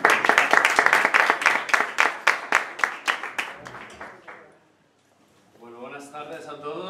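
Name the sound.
audience applause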